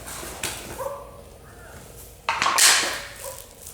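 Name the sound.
dog barking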